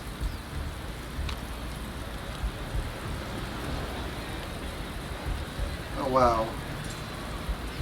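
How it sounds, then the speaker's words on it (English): Heavy, steady rain hisses throughout a racing management game set at a Singapore race, a dense continuous wash with a brief voice speaking over it. "And we start with some ridiculous rain."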